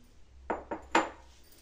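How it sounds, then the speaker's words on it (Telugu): A spoon transfers pitiki pappu (field bean) biryani from a bowl onto a plate, making three light, close clinks and scrapes of metal on dishware in a quiet room. "ఇప్పుడు ఈ బిర్యానీని ప్లేట్లోకి వేసుకోవాలి."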